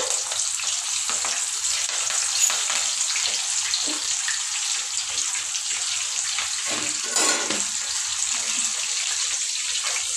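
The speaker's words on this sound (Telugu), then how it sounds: "ఆ బజ్జీలు అయితే వేసేస్తాను." Cut bajji fritters deep-fry in hot oil, giving a loud, continuous close-up sizzle and bubbling hiss that holds steady throughout, with occasional brief crackles and no talking.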